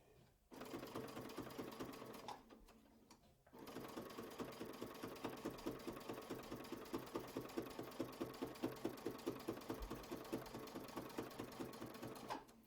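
A sewing machine stitches a quilt block in steady, rapid runs, loud and close, pausing briefly near the start before resuming its even mechanical chatter.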